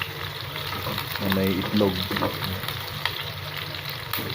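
Onion and garlic sautéing in a pan for ginisang ampalaya, a steady close sizzle and frying hiss running throughout, with a brief voice speaking over it near the start.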